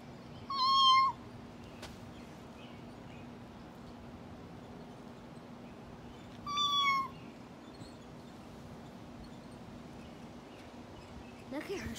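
A voice imitates a cat's meow twice, high and drawn out, with long quiet gaps and a low hum in the background.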